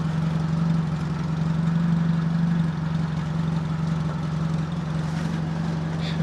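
A Fiat Panda 4x4 Sisley idling smoothly through an old, rotting exhaust: an even, low engine drone held steady for several seconds, close and unbroken by speech.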